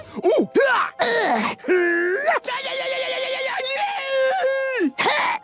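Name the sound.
screaming and groaning death sounds for Billy & Mandy video game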